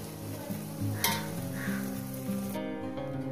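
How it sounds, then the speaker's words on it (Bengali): An egg frying in a pan gets flipped to its other side, a steady close sizzle with a brief scrape and clatter of the utensil partway through. "দেখাচ্ছি কিভাবে ভাজবো। এক পিঠ আমার হয়ে গেছে, অপর সাইডে উঠিয়ে দেবো"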